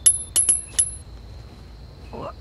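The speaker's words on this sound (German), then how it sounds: "Werfen wir einfach hier eine Münze hin." A coin tossed onto the ground in the stealth video game Hitman, heard as several short, bright metallic clinks in quick succession, followed by a faint brief rustle.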